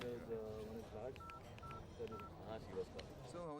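A telephone is dialed with a few short, clear tone beeps. Voices and background music from a comedy movie scene run underneath and between the tones.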